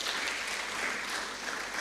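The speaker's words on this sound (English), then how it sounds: "A round of applause," Steady audience applause at a media convention, a continuous wash of clapping from a crowd honoring a professor, even in level and lasting throughout without a break or voice on top.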